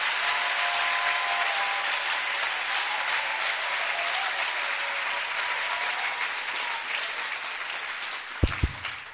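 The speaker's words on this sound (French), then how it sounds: "You did not really clap. Now clap." Church congregation clapping together in sustained, dense applause that fills the space, with a few sharper claps standing out near the end.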